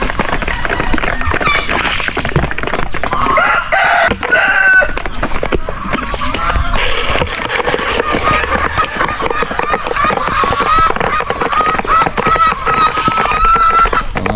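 Layer chickens in a backyard farm cluck and crow busily during feeding, a dense close chorus with a rooster's calls rising above, and some talking mixed in.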